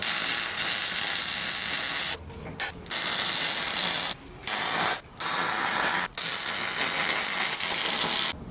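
MIG tack welding on a drift truck's steel, done on the ground: a loud, steady crackling hiss in several bursts of varying length, broken by short silent pauses between welds.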